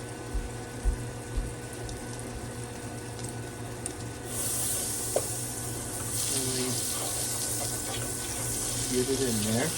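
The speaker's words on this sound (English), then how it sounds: "So I'm going to add about 2 tablespoons of butter" Butter sizzles in a pan holding browned chicken bits for a chicken-and-rice cream sauce, a bright hiss that surges in around the middle and holds steady, with a few soft clinks and low kitchen hum beneath.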